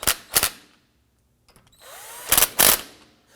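A power tool snugs down ball joint bolts on a 2015-2020 Ford F-150: two quick close bursts, a quiet pause with small clicks, then two louder bursts, the last held slightly longer.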